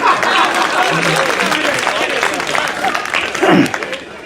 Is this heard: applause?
yes